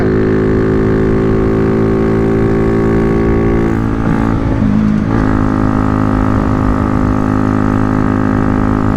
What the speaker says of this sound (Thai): เสียงเบิ้ลตัวเปล่ามันหวนนะดู น่าจะน้ำมันหนา